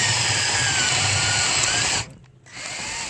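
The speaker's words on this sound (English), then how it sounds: "Let's go ahead and get started drilling those out." A power drill spins a bit through the rivets holding the occupant seat sensor of a Lincoln MKZ, Zephyr or Ford Fusion, a loud close whine that stops briefly and then starts again.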